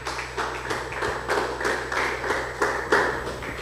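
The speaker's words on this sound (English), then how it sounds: "Let's clap for him." Audience clapping at a school debate between two secondary schools, a steady run of moderately loud claps over a low background hum.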